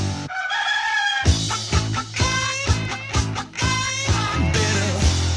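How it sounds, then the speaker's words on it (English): Chicken clucking and crowing effects ring out within a 1970s novelty song, rhythmic squawks layered over a bouncing beat and instruments, loud and upfront in the mix. "A crazy chicken chasing me all over town."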